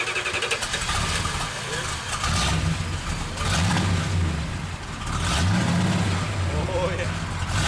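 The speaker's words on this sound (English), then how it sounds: "I'm driving a Superbird" A Plymouth Superbird's engine rumbles while driving, a steady low drone with a few rising rev swells, heard close and loud under excited talk.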